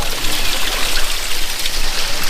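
Water runs without pause through a tapless latrine in a traditional village with no electricity. The close, steady rushing trickle continues unbroken, and no one speaks.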